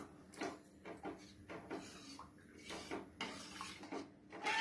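A spoon stirs Thiruvathirai kali batter in a pot over low heat, making a dozen or so close, rhythmic scraping and knocking strokes against the pot with no voices.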